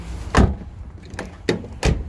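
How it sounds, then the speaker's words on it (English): Door of a ute with a rear canopy being closed, several separate thumps and clunks spaced across a couple of seconds, fairly close and loud, with no talk. "Sorry, I have to close the door properly."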